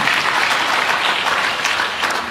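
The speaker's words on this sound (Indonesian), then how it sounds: "Tepuk tangan dong buat Tuhan." A church congregation applauding together in a steady, loud burst of clapping that fills the room for a couple of seconds.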